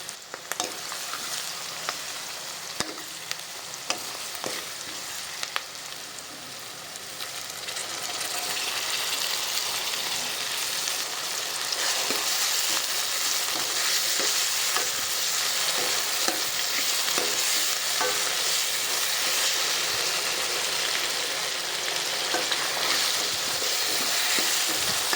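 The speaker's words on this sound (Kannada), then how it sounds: "ನಾನಿಲ್ಲಿ ಸಾಸಿವೆ, ಎಣ್ಣೆ ಮತ್ತು ಈರುಳ್ಳಿ ಹಾಕಿ ಫ್ರೈ ಮಾಡ್ತಾಯಿದ್ದೀನಿ" Mustard seeds and onions fry in oil for paneer bhurji, making a continuous crackling sizzle that swells louder partway through. Scattered utensil scrapes and stirring sounds are heard, with no talking.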